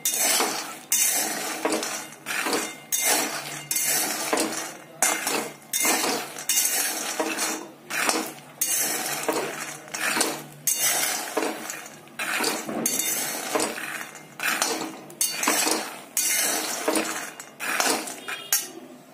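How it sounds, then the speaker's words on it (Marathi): Peanuts dry-roasting in a pan for sweet peanut-jaggery laddoos, stirred steadily until crisp: a continuous rhythmic scraping and rattling of nuts against the metal, close and fairly loud, with no voices. "असंच आपण याला छान असं क्रिस्पी होईपर्यंत भाजणार आहोत"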